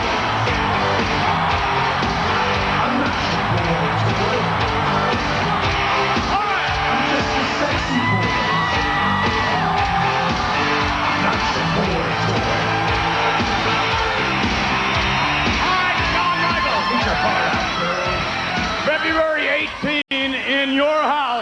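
A sold-out WWF wrestling arena crowd in 1996 cheers and yells for Shawn Michaels, a loud, sustained roar of whoops and shouts filling the whole stretch without a break.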